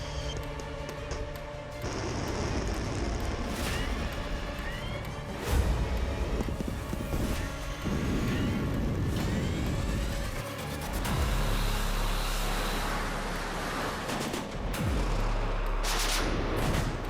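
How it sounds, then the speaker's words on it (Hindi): Chaotic bursts of gunfire and heavy explosions at a railway station in Kyiv, Ukraine, dense and loud, with crashing booms breaking through continuous noisy rumble. "यहाँ पे बड़ा धमाका नजर आया।"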